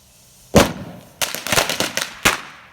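Firecrackers set off outdoors at night, a loud sharp bang followed by a rapid string of crackling pops and a final loud report, close by with no talk.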